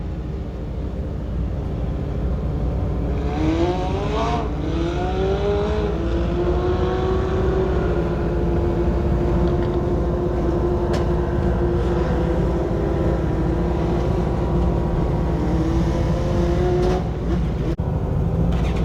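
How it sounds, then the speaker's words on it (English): Legend race cars circle the Bega Speedway track for their feature race, engines roaring continuously and rising and falling as they pass, with a steady wash of track noise throughout. "Legend cars are on the track for their feature"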